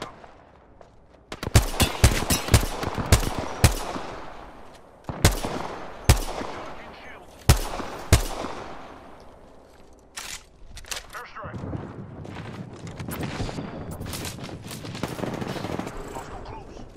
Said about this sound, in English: why am I missing so many shots with this G7 right now?